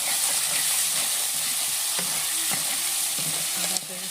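Tomatoes and spice paste frying in a pan as they are stirred, a steady loud sizzle with soft scraping strokes throughout and no talking.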